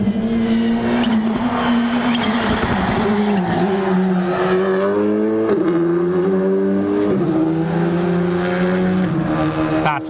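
Race car lapping a circuit during a timed run, engine loud and close throughout, pitch rising through the gears with shifts and brief dips, with some tire squeal.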